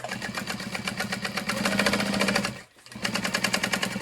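A sewing machine basting backpack fabric layers together, running in a fast steady rhythmic whir with stitch pulses, briefly stopping near the end before starting up again, close up with no talking.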